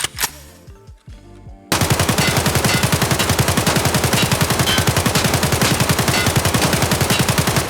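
Sustained full-auto fire from an AK74M rifle in the video game Escape from Tarkov rings out as a long, loud, rapid burst of evenly spaced shots. A few faint clicks and thuds come before it.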